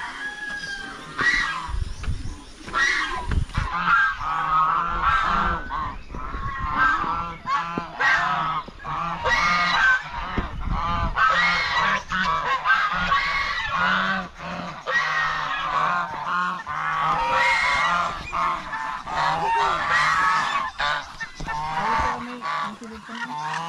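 A flock of farm geese honks steadily and loudly throughout, overlapping calls coming close and in irregular bursts, with other poultry such as chickens mixed in.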